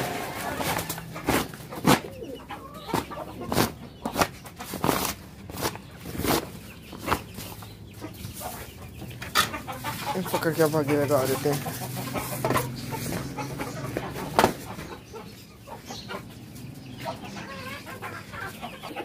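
Chickens cluck and squawk close by, bursts of agitated calls with some shuffling, and someone speaks at times over them.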